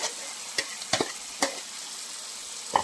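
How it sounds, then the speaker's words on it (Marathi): Vegetables being stirred into masala for pav bhaji, with a soft sizzle of frying under scattered scraping stirs of a spoon against the pan, a few sharper clinks standing out. "यामध्ये आपण आपल्या भाज्या घालून घेणार आहोत।"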